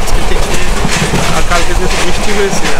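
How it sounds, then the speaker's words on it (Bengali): The Mohanagar Provati Express rolls along the rails between Dhaka and Chittagong, a loud continuous rumble with rhythmic clickety-clack from the carriages, heard from inside the moving train under a talking voice. "তো আমাদের ট্রেন কিন্তু এরকম অসংখ্য ছোট ছোট স্টেশন স্কিপ করে চলে যাচ্ছে।"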